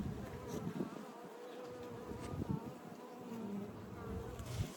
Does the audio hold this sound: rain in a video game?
no